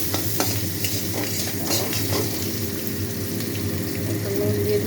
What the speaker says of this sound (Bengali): কালো জিরে দেওয়ার পরে পেঁয়াজ দিলাম। এটা একটু ভালো করে নাড়াচাড়া করবো লাল লাল করে।